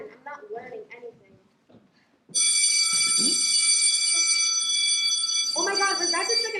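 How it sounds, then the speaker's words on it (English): A school bell rings loud and sustained in a harsh, steady electric tone after a quiet pause, with people talking before it and a voice speaking again as it carries on. "was that the second bell?"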